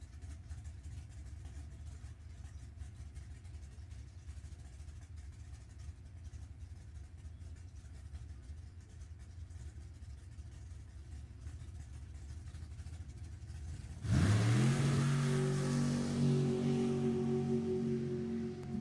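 A Super Gas drag racing car idles with a low, rumbling drone, then its engine roars up suddenly and loudly, holding a strong rising growl close by.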